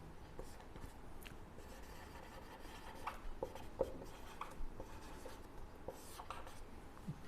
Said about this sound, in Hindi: मैं यहाँ पे लिख देता हूँ ताकि भूलो मत